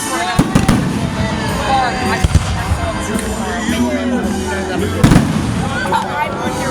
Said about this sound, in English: don't you look at the fireworks and get emotional